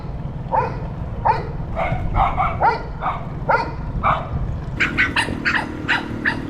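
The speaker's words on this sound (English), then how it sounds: "Dogs." Several dogs barking in a rapid, uneven series of sharp yips and barks, fairly close, over a steady low rumble outdoors while fishing for golden shiners, with a brief higher tonal hum near the end.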